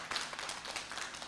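A short round of applause for a teacher, with several people clapping fairly close for just over a second.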